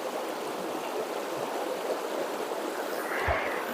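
A strong river current flows steadily on Bayaoas–Maples River in Aguilar, Pangasinan, a continuous close rushing wash of water that stays even throughout, with no talking.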